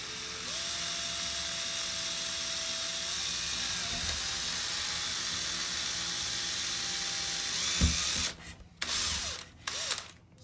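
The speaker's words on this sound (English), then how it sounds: "just pull the trigger and drill the hole." A power drill bores a hole through a door for a handle, with a steady high whine for about eight seconds, then a few short stop-and-start bursts as the bit breaks through.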